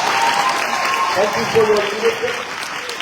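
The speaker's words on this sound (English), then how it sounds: "Let's give a warm applause for Principal Ali." An audience at a Freedom Day school programme on the Cape Flats applauds their principal, a soft, steady patter of clapping under a voice speaking briefly.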